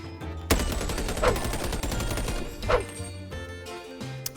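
Gunfire from a gun in a VR video game: a few sharp, loud bursts with ringing tails and crackling echo, spaced across the stretch, with no talk.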